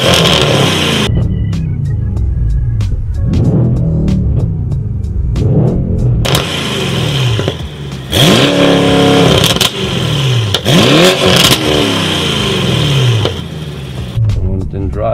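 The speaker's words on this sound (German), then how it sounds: "Starten wir mal das Auto." A Carlsson-tuned Mercedes E63 AMG rated at 720 PS starts with a loud bark, then revs repeatedly in sharp, sweeping bursts over a deep, throbbing idle. It is recorded close up.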